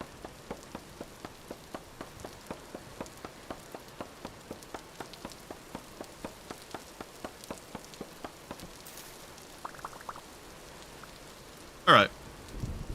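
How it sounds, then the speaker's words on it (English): Steady rain falls in the survival video game Vintage Story, an even patter of drops with regular soft ticks, and a loud burst of thunder or static near the end. "All this rain is going to be a bit annoying in and of itself"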